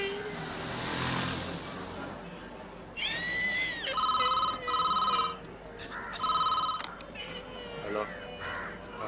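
A telephone ringing in a Tamil crime thriller film, sounding as repeated electronic ring bursts in a steady on-off pattern, loud and near, after a stretch of background noise and some brief talk.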